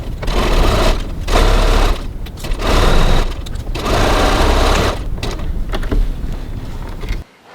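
A domestic sewing machine stitches the bottom seam of a bag lining, 1 cm seam at 2.4 stitch length, running loud and close in several bursts with short pauses between.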